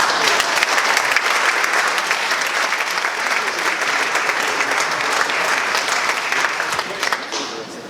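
A crowd at a leadership conference at the US Military Academy at West Point applauds steadily and loudly throughout, with dense clapping that tapers slightly at the very end.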